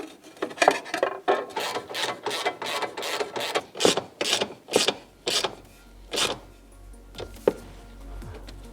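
Heat shield on a Polaris Ranger 900 XP being worked back into place, a close series of rhythmic scraping, rubbing metal-and-plastic clatters that slow and thin out toward the end.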